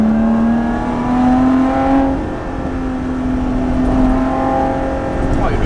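A Lotus Exige 430 Cup engine pulls hard and rises in pitch through a gear, dips at the shift, then climbs again, loud and close from inside the car with no speech over it.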